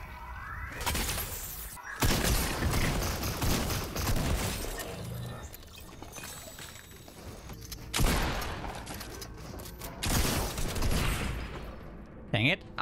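Gunfire and shattering in the video game Fortnite come in loud bursts separated by quieter gaps, with a sharp crash near the start and later flurries of shots, while a player talks throughout.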